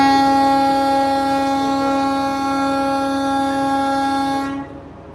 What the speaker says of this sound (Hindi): ट्रेन जो है हमारे कुछ देर में चल रही है।